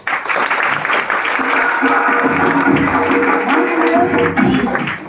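An audience at a closing event claps in a dense, steady burst of applause lasting several seconds, loud and close, with a voice heard over it.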